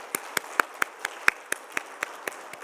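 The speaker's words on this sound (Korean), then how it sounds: "우리 김종혁 원사님께 감사의 박수 한번 하겠습니다." Claps ring out in a Korean church's Wednesday evening worship service as thanks to a guest speaker, a sparse, evenly spaced series of about a dozen sharp single claps, close and clear with little crowd noise behind.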